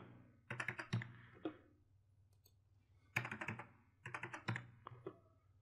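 Typing on a computer keyboard while entering a username and password during a macOS Catalina install, close, quiet bursts of quick keystrokes separated by short pauses, with no talking.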